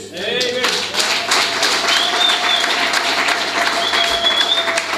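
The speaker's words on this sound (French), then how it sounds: "Vamos aplaudir o nosso Deus." A church congregation claps and cheers in praise of God, a dense, steady wash of applause filling the space at close range, with a sustained tone and faint voices threaded through it.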